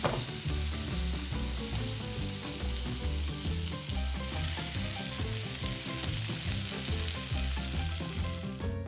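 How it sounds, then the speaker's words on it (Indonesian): Food fries briskly in oil in a pan in a tiny kitchen, a steady close sizzle with crackling and occasional stirring scrapes throughout, no voices. "Goreng cepat selama 10 menit."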